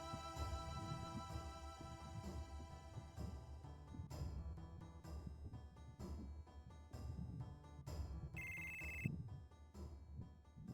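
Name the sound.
telephone ringing in video game Final Fantasy 7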